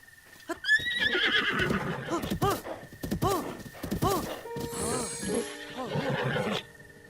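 A horse whinnies and neighs repeatedly in a series of shrill, wavering calls, with snorts and a few hoof sounds between them, in the video game Breath of the Wild.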